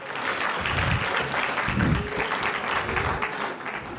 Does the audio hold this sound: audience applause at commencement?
yes